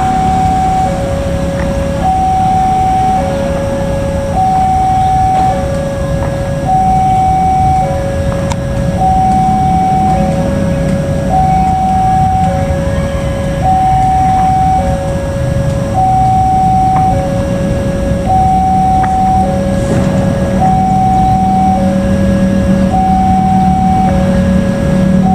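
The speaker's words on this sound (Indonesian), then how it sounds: "kita tunggu kereta api lokal Garut Cibatuan yang sebentar lagi akan segera masuk" A Garut–Cibatuan local train pulls into Rancaekek station with a loud, continuous heavy rumble. A repeating two-note warning tone alternates steadily throughout, and no one speaks.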